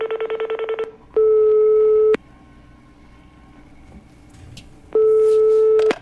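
Telephone ringing out on a call placed live during a broadcast: a rapid pulsed tone, then two long steady ring tones separated by a quiet gap, loud and close.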